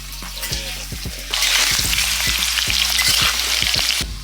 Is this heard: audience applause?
no